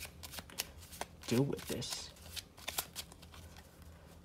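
Playing cards being shuffled by hand, with a quick riffling flutter that swells in the middle and then stops, close and clear, while a person talks over and around it.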